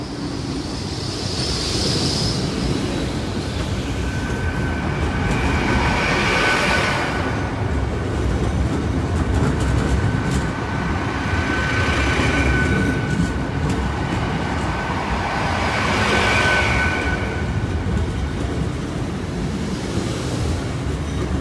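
A train rolls steadily into a station platform to terminate, near Lincoln High Street level crossing, a continuous loud rumble of wheels on track with periodic hissing swells and a faint squeal over about twenty seconds.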